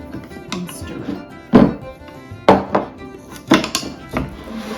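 Lye stirred into frozen milk cubes in a container for homemade milk soap: close, hard knocks and scrapes of the stirring utensil come roughly once a second over a quiet background.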